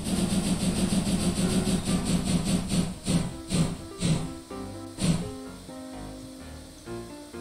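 Steam locomotive in the Minecraft Immersive Railroading mod, a video game: steady hissing steam and engine rumble, then rhythmic chuffs that slow and spread out, with a whistle-like tone running through.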